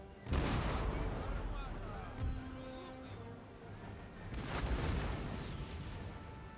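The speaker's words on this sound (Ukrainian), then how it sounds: "його було накрито шквальним картечним вогнем гармат" Two heavy video-game cannon volleys of grapeshot boom out seconds apart, each a loud blast trailing into rolling rumble, with battle noise in between.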